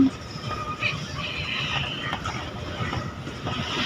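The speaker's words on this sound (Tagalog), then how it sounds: "Ayan, lakas ng hangin." Steady roaring typhoon wind buffets the microphone throughout, loud and continuous, with gusty rushing noise and no clear pauses.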